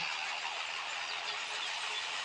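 A combine harvester in Farming Simulator 23 runs with a steady, loud broadband engine and machinery roar that holds constant throughout, with no voices.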